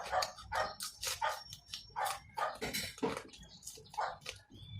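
Several dogs bark and yip in quick, uneven bursts, fairly close, with short gaps between barks and no talking over them.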